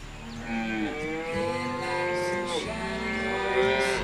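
A herd of water buffalo grazing on open grassland near a beach, with overlapping low, drawn-out moos rising and falling from several animals close by, continuous over four seconds.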